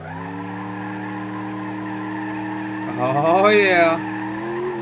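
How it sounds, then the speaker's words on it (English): In the BeamNG.drive game, a supercharged, nitrous-equipped eight-door truck with a line lock holds a steady engine drone, then its tires squeal loudly for about a second, with a brief spoken exclamation. "it does have a line lock so we can do some burnouts"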